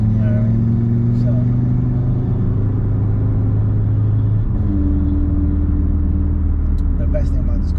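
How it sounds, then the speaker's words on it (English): Audi RS3 five-cylinder engine droning steadily from inside the car, a deep rumbling hum whose pitch steps to a new level about halfway through. "the best thing about this car is the 5-cylinder sound"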